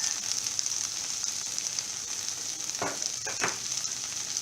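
Okra (bhendi) frying steadily on a medium flame in a pan, a continuous bright sizzle with two brief louder bursts near the end as the pieces are stirred.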